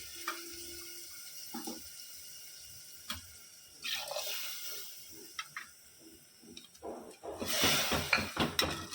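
Water runs and splashes into a pot of rice, starting with scattered clinks and drips and then growing into a louder, steady pour toward the end.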